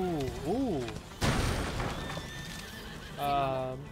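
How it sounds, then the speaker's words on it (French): A horse in the video game A Plague Tale: Innocence whinnies with a wavering neigh, then a crash and rumble follow before another shrill whinny; a voice speaks in between. "Regardez, le cheval."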